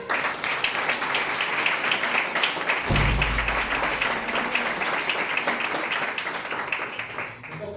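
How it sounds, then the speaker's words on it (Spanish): An audience claps for several seconds to welcome a speaker to a talk on an Antarctic expedition, steady dense applause with a brief low thump partway through. "Vamos a recibirla con un aplauso."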